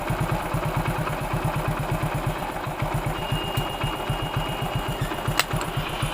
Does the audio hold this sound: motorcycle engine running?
yes